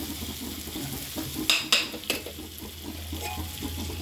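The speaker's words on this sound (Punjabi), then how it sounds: "ਤੜਕਾ ਹੋ ਗਿਆ ਤਿਆਰ" Tadka tempering sizzles softly in a pan while a spoon stirs it, with a few sharp metallic scrapes and clinks against the pan near the middle.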